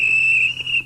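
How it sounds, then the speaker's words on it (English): A train guard's whistle sounds in one loud, steady, shrill blast that holds for nearly a second before cutting off. "That's my guard's whistle."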